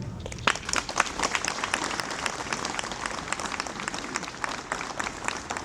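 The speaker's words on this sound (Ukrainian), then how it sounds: "Тож пошануємо нашими оплесками" A crowd at a Cossack festival in Kolomyia applauds steadily for several seconds, a dense wash of many hands clapping, heard at a moderate distance and fairly soft, with no speech over it.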